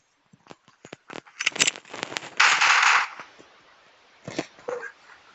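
Rapid bursts of gunfire from the mobile shooter game Critical Ops, sharp cracks in quick clusters with a dense sustained volley in the middle, then scattered shots trailing off.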